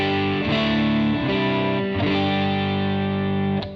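Distorted electric guitar through a Fender Custom Shop neck pickup, thick sustained chords shifting every second or so, played alone and loud.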